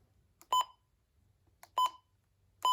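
Three short electronic beeps, evenly spaced and clear, each a brief tone with silence between.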